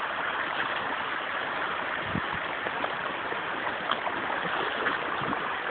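A creek in the woods flows in a steady, broadband rush of water, with close, continuous babbling and no voices.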